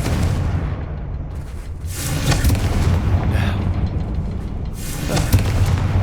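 A Confringo fire spell in the Hogwarts Legacy video game on PS5 sets off loud booming blasts, with a rumbling explosion at the start and further heavy bursts that carry on through the rest of the moment.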